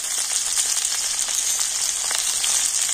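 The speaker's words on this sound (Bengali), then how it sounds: "হলুদ আর লবণ দিয়ে আলুগুলোকে একটু লাল লাল করে ভেজে নেব" Steady, dense sizzle of potatoes frying in oil with salt and turmeric, close and continuous for a few seconds with no voices.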